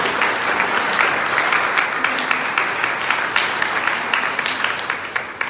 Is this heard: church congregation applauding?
yes